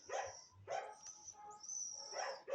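A dog barks in a few sharp, fairly faint bursts, with a high whine between them, heard alone without speech.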